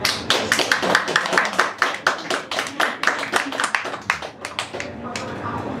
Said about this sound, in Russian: Овации.